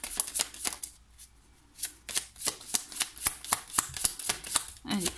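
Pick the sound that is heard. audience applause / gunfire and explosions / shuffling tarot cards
shuffling tarot cards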